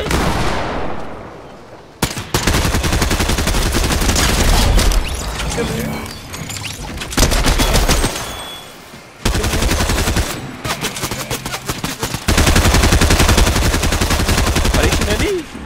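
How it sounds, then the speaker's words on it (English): Gunfire in a video game, rapid bursts of machine-gun-like shots in loud, dense volleys broken by short pauses, with a voice now and then. "They're shooting at him."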